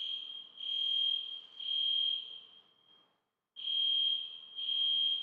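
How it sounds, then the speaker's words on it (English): A fire alarm sounds indoors with a loud, steady high-pitched electronic tone in long pulses, briefly fading and cutting out before resuming at full strength. "I'm going to pause until the fire alarm, hopefully."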